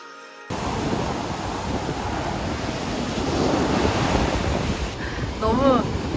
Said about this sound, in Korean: 헛웃음이 나는 파도의 높이다.